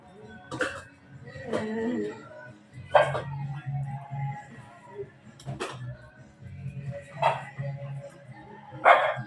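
Thirteen dogs bark in sharp, scattered bursts at feeding time, some close and loud, with whimpers and yips in between and low rumbling noise underneath.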